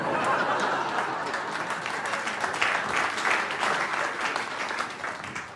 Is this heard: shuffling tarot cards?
no